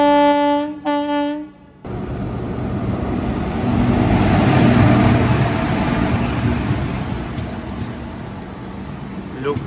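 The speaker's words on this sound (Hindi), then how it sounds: "और फिर से इस साइड से कोई ट्रेन आ रही है। ये चौथी ट्रेन है जो क्रॉस हो रही है" A train passes on the adjacent track during an Indian rail journey, a loud sustained rumble and rushing clatter that follows a brief horn blast at the start.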